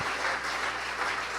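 A church congregation applauds, with a brief, steady wash of many hands clapping together at moderate volume and no voices.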